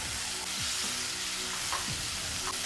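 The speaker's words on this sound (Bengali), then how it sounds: "ঠিক এই পর্যন্ত ভাজার পরে দিয়ে দিচ্ছি আদা রসুন বাটা 1 টেবিল চামচ" Onions frying in a pan with a tablespoon of ginger-garlic paste just added, a steady close sizzle with a few stirring scrapes, no voices.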